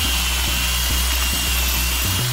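A Makita power tool grinds rust off the wheel bearing housing of a classic VW Polo, a steady close whine with a low motor hum and a drop in pitch near the end.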